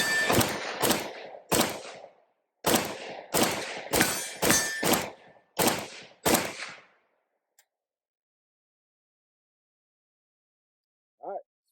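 An AK47 rifle firing a string of about a dozen sharp, loud rounds in uneven bursts and single shots, followed by quiet and a brief faint voice at the end.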